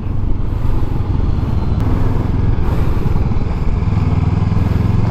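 Steady engine drone of a 2024 Honda NX500 motorcycle being ridden on a long ride, loud and continuous throughout with no talk.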